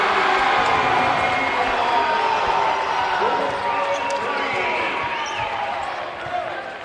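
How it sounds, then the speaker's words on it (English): A college basketball crowd in a California (PA) versus Slippery Rock game roars and cheers after a three-pointer, a loud sustained swell that slowly fades, with a commentator talking over it and squeaks and bounces beneath. "What a reaction from the crowd"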